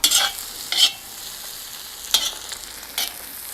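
Mushrooms cooking in butter with garlic in a pan, a soft steady sizzle with several brief louder stirring scrapes spaced through the clip, close and alone with no talk.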